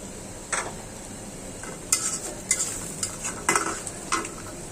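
Food stirred in oil in a kadai, with a series of scraping, clinking strokes against the pan over a steady sizzle, close and fairly loud.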